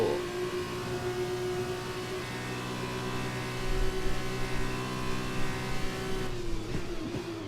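A Formula 2 race car engine in a racing video game, set at Bahrain, drones loud and steady at sustained high revs, with a brief lift and change in pitch near the end.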